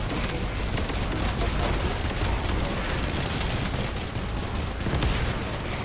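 Rapid, dense gunfire from an assault turret in The First Descendant, a continuous crackling barrage that holds at even loudness throughout, loud and unbroken.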